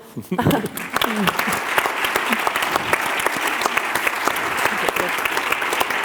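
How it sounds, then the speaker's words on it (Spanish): An audience at a public talk bursts into applause, dense clapping that rises quickly and holds steady and close for several seconds. "Primero, un aplauso."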